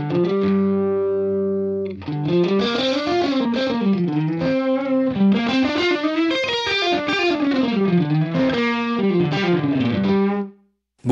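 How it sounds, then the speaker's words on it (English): Guitar played through a Helix tube screamer-style overdrive with switchable clipping symmetry: a sustained chord rings out, then a busy overdriven riff with bending, wavering notes carries on steadily and loud before cutting off at the end. "So a bit more of a versatile tube screamer."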